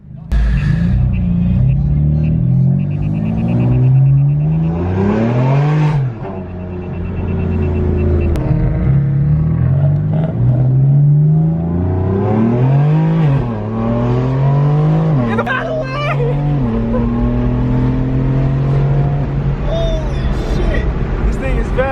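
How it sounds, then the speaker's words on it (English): A boosted Ford Mustang sitting in neutral while its engine is revved hard several times. Each loud, close roar climbs and then falls back, with short pauses between blips, and people can be heard talking and exclaiming over the noise. "Now you can put it neutral and then rev it."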